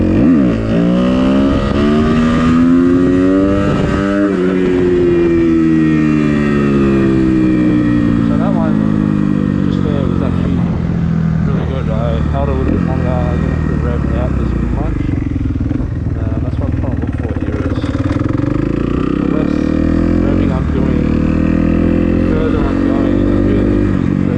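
A Kawasaki KX250F dirt bike engine revs hard and loud up close, rising and falling in repeated throttle bursts as the rider attempts a wheelie, with a voice talking over it throughout.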